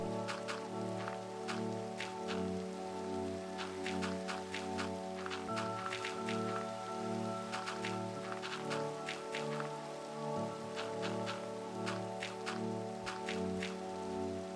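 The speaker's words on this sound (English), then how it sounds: "Oh, and it's raining." Steady rain falls across a Minecraft world on a gloomy day, a continuous dense patter with sharp individual drop ticks layered over sustained low game tones, with no talking.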